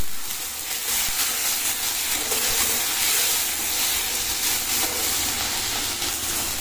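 Tomato dropped into caramelised sugar in a hot pan while making chicken pakora gives a loud, continuous sizzling hiss that swells and holds steady throughout, close up and alone.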